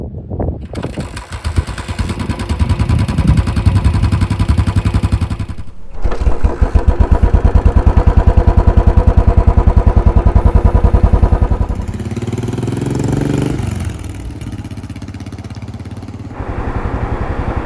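A 2018 Royal Enfield Classic 500 single-cylinder motorcycle cranks and fires up, then runs with a loud, steady, rapid thumping idle close by, briefly dropping in pitch before picking back up.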